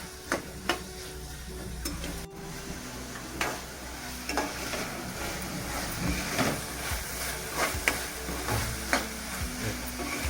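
Cluster beans (guar) frying in oil, a steady sizzle under repeated spatula scrapes and clinks against the pan at an irregular pace, close and moderately loud.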